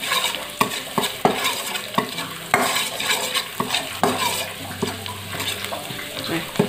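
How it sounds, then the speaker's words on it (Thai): Lightly pounded garlic sizzles in hot oil in a pan, a continuous crackling hiss punctuated by frequent scrapes and clinks of a spoon stirring, close and fairly loud. "ตำกระเทียมนิดนึงแล้วก็เราเจียวให้หอมก่อนนะคะ"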